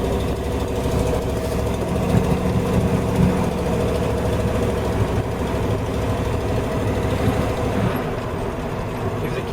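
A clunky old car engine runs steadily on a test drive, a continuous low rumbling drone with a slightly knocking, vibrating texture, fairly loud and close with no talk.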